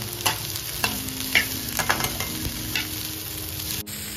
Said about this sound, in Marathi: हे फक्त तेलात फ्राय करून घ्यायचं पॅनमध्ये।